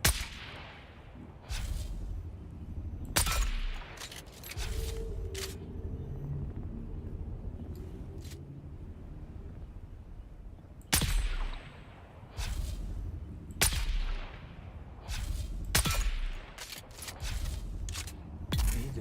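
Gunfire in the video game Dune, a string of sharp loud shots spaced irregularly over a low rumbling background, some in quick pairs, with no speech over them.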